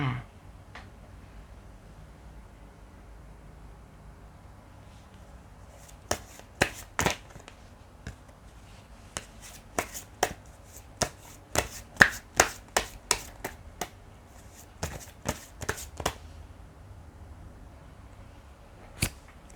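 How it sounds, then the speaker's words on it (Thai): Tarot cards being shuffled and flicked in a quiet room, heard as a string of sharp, close card snaps and riffles in irregular clusters, separated by near silence. "เดี๋ยวเรามาเปิดไพ่แล้วรับฟังคำทำนายไปพร้อม ๆ กันเลยค่ะ"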